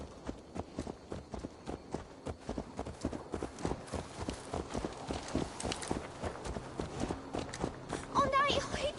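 A horse's hooves clip-clop in Assassin's Creed Valhalla, a steady walking rhythm of distinct thuds lasting several seconds, with faint voices and game ambience mixed underneath.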